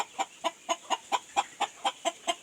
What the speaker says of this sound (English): Catch back a rooster, you see it here.